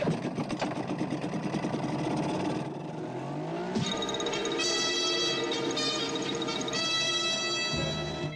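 A speedboat engine runs steadily with a buzzing mid-range drone, shifting in pitch partway through as higher whining harmonics rise, loud and continuous with no talk.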